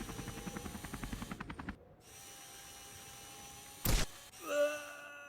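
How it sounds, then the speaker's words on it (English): A mini helicopter in the Henry Stickmin video game chops with rapid, steady rotor pulses for under two seconds and then cuts off. A short loud burst and a rising electronic tone follow. "Mini helicopter."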